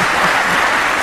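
A large crowd applauds and cheers in a dense, unbroken roar of clapping, loud and close throughout.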